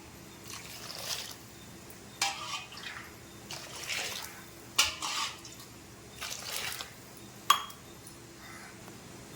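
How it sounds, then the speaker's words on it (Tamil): Hot water is poured over goat intestines in a vessel, coming as several separate splashing pours with clinks of metal or glass between them, each burst short and close against a quiet background. "இப்போ இந்த சுடுதண்ணி எடுத்து அந்த குடலில் நல்லா குடல் நீங்கிற அளவுக்கு ஊற்றி"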